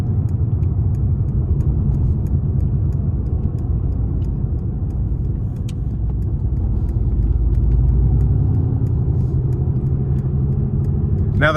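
A 2018 Mercedes-AMG GT R engine rumbles while driving, a steady deep drone heard from inside the cabin with road noise, swelling slightly under throttle for several seconds.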